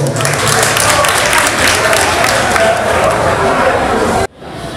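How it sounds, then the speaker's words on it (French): A large audience at an investiture ceremony for an association president in Duékoué applauds loudly and steadily for about four seconds, a dense wash of clapping that cuts off abruptly near the end. "je vous demande d'applaudir très fort"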